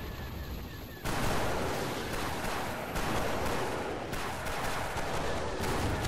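Sustained blaster-cannon fire from a TIE fighter during a Garry's Mod battle between Imperial ships and modern military helicopters, a dense continuous barrage that swells sharply after the first second and rolls on without pause.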